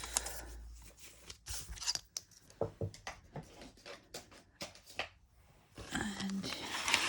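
Scissors snip through paper for a junk journal, a string of short crisp cuts with pauses between, close and moderately loud; brief rustling of paper follows near the end.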